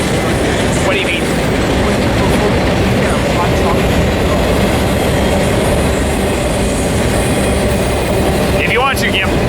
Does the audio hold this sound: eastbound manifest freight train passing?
yes